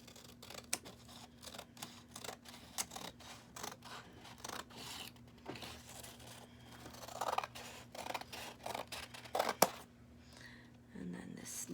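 Scissors snip through stacked strips of pink and black construction paper in a series of quick, crisp, close cuts with short pauses between them, against a faint low hum and some light handling noise.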